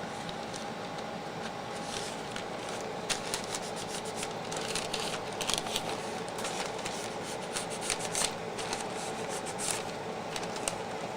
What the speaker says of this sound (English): I'm just gonna go around and score the paper with my finger